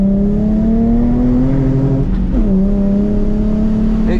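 A Nissan 350Z engine pulled at full throttle on a race track, loud and close, climbing steadily in pitch, dipping briefly at a gear change near the middle, then pulling hard again.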